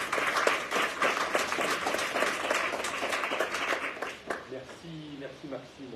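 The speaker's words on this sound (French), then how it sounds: "On peut l'applaudir." Audience applause after a lecture on Mediterranean forests and climate change, a sustained burst of clapping for about four seconds that fades as a voice begins talking at the end.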